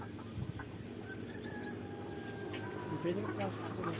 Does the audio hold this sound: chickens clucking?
yes